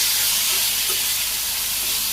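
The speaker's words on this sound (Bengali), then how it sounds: "সামান্য একটু তেল দিয়ে দিলাম" Okra in a pan in a Bangladeshi village kitchen gives off a loud, steady hiss and sizzle as a little oil goes in, close up and unbroken for the whole two seconds, with no talking.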